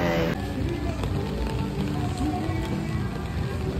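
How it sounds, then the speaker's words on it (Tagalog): Rain falls at night in Boracay, a dense, steady patter of drops on surfaces throughout, fairly close, with a person speaking over it. "Maulang gabi sa Boracay."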